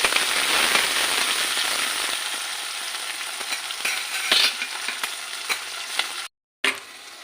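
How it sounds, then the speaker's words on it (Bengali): Chopped garlic, onions and green chillies fry in a wok, browning with a continuous close crackle and sizzle and occasional stirring clicks, broken by a brief silence near the end. "ভালো করে লাল লাল করে ভাজতে হবে।"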